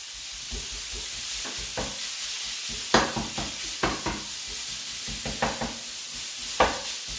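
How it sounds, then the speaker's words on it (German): Minced meat frying without oil in a pan, a steady hissing sizzle with repeated spatula scrapes and knocks as the meat is chopped and stirred, close and moderately loud. "Ihr wisst ja meine Art, Fleisch anzubraten,"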